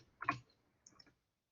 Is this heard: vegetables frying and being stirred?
no